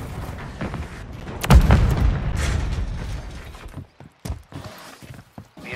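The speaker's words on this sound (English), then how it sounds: "Throwing grenade!" A Modern Warfare grenade blast lands as a sudden heavy boom with a rumbling tail, followed by scattered sharp shots and impacts as things quiet down.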